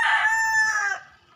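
A rooster at a small backyard chicken coop gives one loud, close crow that fades at the end, alone and with no talk over it.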